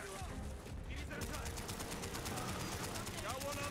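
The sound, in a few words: machine gun fire in Call of Duty: Black Ops video game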